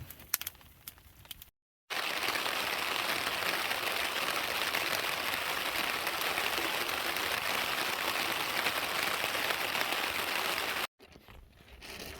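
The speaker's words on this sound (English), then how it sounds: "It's raining a bit," Light rain falls at a remote hunting camp in the Alaskan backcountry, a steady soft hiss and patter that runs unbroken for most of the stretch, with quieter gaps at the start and end.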